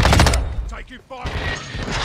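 Gunfire in the video game Call of Duty MW2 DMZ, a burst of rapid automatic shots at the start, then a short lull with a voice speaking, followed by more sustained firing and rumble.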